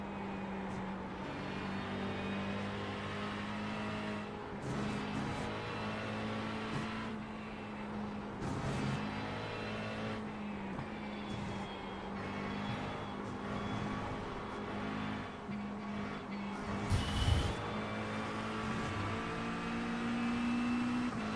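Race car engines in a Le Mans racing video game: a steady, droning engine whine whose pitch shifts with gear changes, and an opponent's car audible close behind throughout, with no talking.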